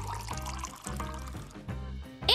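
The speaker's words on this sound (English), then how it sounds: "Add 1 ounce of dishwashing detergent." Dishwashing detergent is poured into water to make a bubble mix, giving a close, continuous liquid pour with a brief louder splash at the end.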